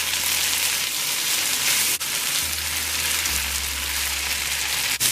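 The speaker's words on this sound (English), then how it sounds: "At this point I'm going to add some fresh onion." Fresh onion hits a hot frying pan during the cooking of chicken giblets, liver, heart and dal, giving a steady, close, hissing sizzle that keeps going evenly for several seconds with no talking.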